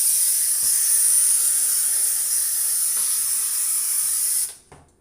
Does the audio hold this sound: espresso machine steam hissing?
yes